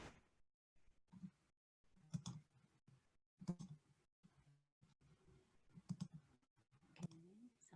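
Computer mouse clicking during an online presentation, a series of sharp faint clicks scattered irregularly, some in quick pairs, in a quiet room.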